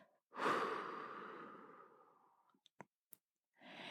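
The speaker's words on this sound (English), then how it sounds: "send that breath down deep to the lower ribs, as full as you can do it, and then slowly exhale" A slow, deep breath out, soft and close, fading gradually, followed by a few small clicks and the start of another breath.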